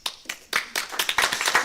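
Clapping from people at a school board meeting, a handful of close, sharp hand claps that start sparse and quicken into a brief irregular burst.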